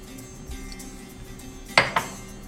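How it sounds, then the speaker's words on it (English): Two sharp metallic clinks of a cooking pan being handled, knocking close and distinct, as it is readied with oil for frying dates and raisins over a quiet background hum. "Add a little bit of oil to our pan"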